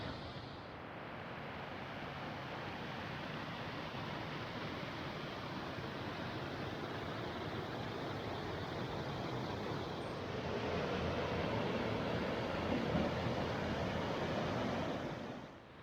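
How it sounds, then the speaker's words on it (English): Steady broadband rush of a fast-flowing river, continuous and fairly close, swelling slightly louder toward the end with no voices. "I'm coming down across this river. I'm not sure what it's called, but it's quite fast flowing."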